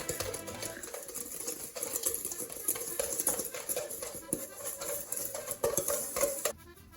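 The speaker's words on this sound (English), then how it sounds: "Then we get a whisk and we mélange. Mix it all together." A whisk beats a mixture in a bowl in rapid, steady scraping and clinking strokes, close and fairly loud, with no talk, before a brief drop near the end.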